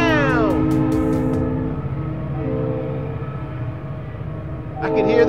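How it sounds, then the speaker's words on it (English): A train horn blows over rumbling rail noise, a sustained tonal blast up front that fades and returns briefly near the end, with a voice speaking throughout. "I could hear the train horn blowing."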